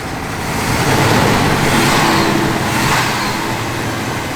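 A 1971 Oldsmobile Cutlass engine runs steadily while the car drives, a loud continuous rumble with road noise and no speech.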